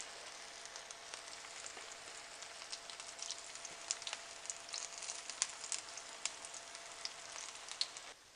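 Baby corn and palak tikki fry in hot oil, giving a steady, dense sizzle with scattered sharp crackles and pops. The sizzle runs alone for the whole stretch at a moderate, even level.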